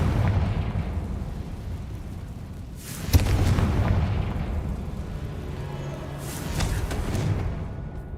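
A Confringo blasting curse goes off in Hogwarts Legacy as a loud, sudden booming burst, followed by rumbling that swells again, set over steady game background ambience.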